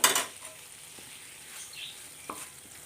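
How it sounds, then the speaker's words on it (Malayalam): Vinegar boiling in a pan for gooseberry pickle, a quiet bubbling sizzle with a sharp clatter at the start and occasional faint utensil taps. "ഇപ്പം വിനാഗിരിയൊക്കെ നന്നായിട്ട് തിളച്ചിട്ടുണ്ട്"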